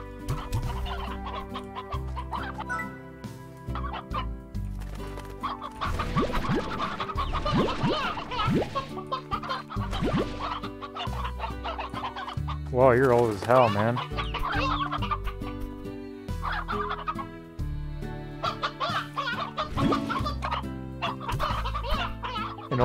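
Hens cluck busily in the ranching video game Slime Rancher, a dense, close chorus of repeated clucks and squawks layered over game music, with a brief spoken remark.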